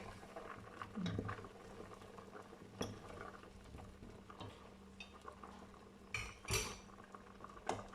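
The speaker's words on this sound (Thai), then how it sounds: "ตอนนี้เดือดกลิ่นหอมมากเลยจ้ะ" Soup broth simmering in a covered pot with mushrooms in a home kitchen, making faint, low bubbling and patter beneath scattered clinks of utensils and pot lids, quiet and close, with no talking.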